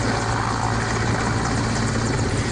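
An air force helicopter flies during a river rescue, its rotor and engine roar loud, close and continuous, a steady dense wash of noise with no pauses.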